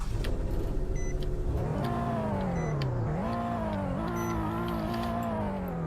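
A 2008 El Grande Horizon Sport, a rear-wheel-drive manual car in the Greenville video game, revs its small engine with rising and falling pitch through gear changes, a steady loud drone lasting throughout with no talk over it.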